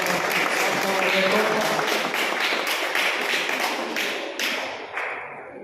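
Crowd applause at a lamp-lighting inauguration of a Rashtriya Dravida Janata Party event in Malur taluk, Kolar district: dense, steady clapping with sharp individual claps, thinning and fading toward the end.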